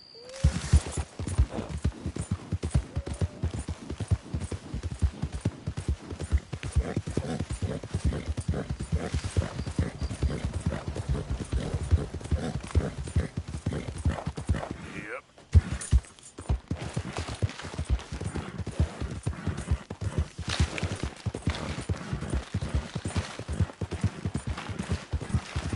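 Rapid, continuous hoofbeats of a galloping horse drum throughout a Red Dead Redemption 2 game ride, loud and steady with a brief break midway.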